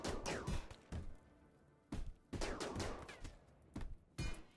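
Gunfire in the colony-sim game RimWorld: rapid bursts of shots in several volleys, sharp and dense, separated by short pauses.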